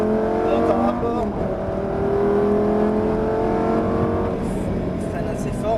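A Lamborghini accelerates at full throttle around a track during a driving course, its engine note climbing steadily and loud throughout, with an instructor's voice speaking over it.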